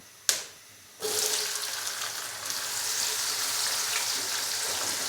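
Onions drop into oil with whole spices and set off a sudden loud sizzle, which keeps a steady, close hiss of frying after a brief sharp clatter.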